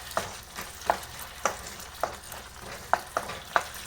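A spoon stirs soya chunks with chilli sauce and soy sauce in a pan. Regular scraping clacks land about twice a second over a low continuous sizzle, close and fairly loud, with no talking.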